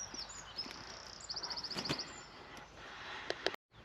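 A sparrowhawk calls from trees beside farmland near Wrabness and the River Stour, a faint quick run of high sharp notes over quiet outdoor ambience with a few soft clicks and knocks.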